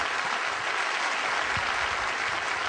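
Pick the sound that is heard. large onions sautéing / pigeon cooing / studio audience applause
studio audience applause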